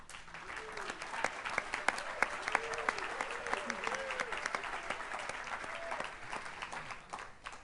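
Steady applause from an audience at a university distinguished alumni awards ceremony, dense clapping with scattered whoops and cheers throughout, sustained and even without a break.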